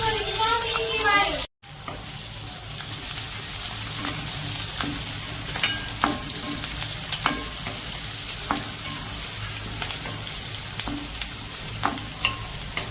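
Sliced onion frying in hot oil with mustard seeds, curry leaves and turmeric for a Kathiyawadi gathiya curry: a steady, loud sizzle with frequent stirring scrapes and clicks, following a brief higher crackle and a short gap.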